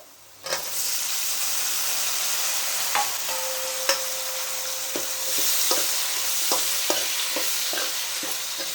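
Tomatoes go into hot oil in a pan and fry, stirred, for tomato curry: an abrupt rise into a continuous hiss with occasional spoon taps and scrapes. No voices are heard.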